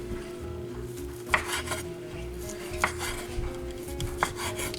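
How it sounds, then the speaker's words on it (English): A knife chopping slow-cooked ham into small pieces on a carving board, a few sharp thuds spaced a second or so apart over a low steady kitchen hum, close but modest in volume, no talk. "We're gonna chop it up into small pieces."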